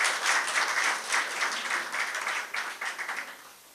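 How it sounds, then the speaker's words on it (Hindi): An audience at a book launch and award ceremony claps in steady, continuous applause from start to finish. It is fairly faint and slightly distant, with no talking over it. "मैं चाहता हूं कि गुलशन जी के लिए एक बार जोरदार तालियां जरूर होनी चाहिए।"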